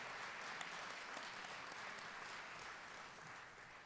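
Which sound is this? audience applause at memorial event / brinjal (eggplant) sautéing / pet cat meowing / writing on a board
audience applause at memorial event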